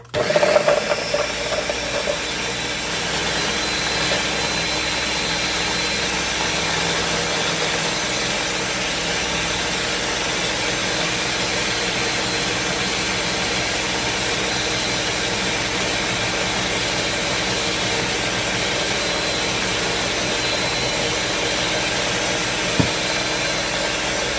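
A blender whirring through garden-fresh basil pesto, a loud continuous motor drone that holds steady from start to finish with a brief knock near the end.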